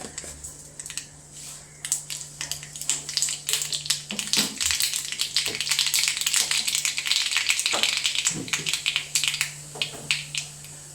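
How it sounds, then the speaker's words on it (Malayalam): Rapid, irregular crackling and sharp pops of mustard seeds bursting in hot oil, dense and close, with a steady low hum beneath. "കടുക് പൊട്ടട്ടെ."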